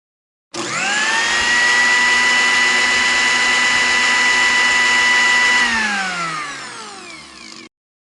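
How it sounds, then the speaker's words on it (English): A blender runs with a loud, steady, high whirring whine for about five seconds, then winds down to a stop. "Turn on the blender. Make me hear it then."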